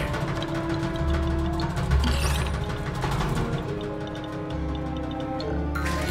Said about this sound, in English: What's rattling around in there?